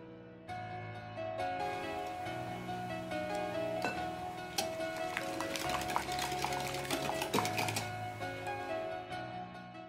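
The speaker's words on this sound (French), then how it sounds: "On ajoute la pâte de miso diluée." Diluted miso paste being stirred into a vegetable quiche filling, with soft scraping and clinking of a utensil against a bowl, occasional sharper taps, under steady faint background music.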